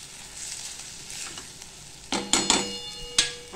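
Coriander sautéing in hot oil with masala in a pan for potato kurma, a soft steady sizzle with a few sharp crackling bursts and stirring clatters near the end.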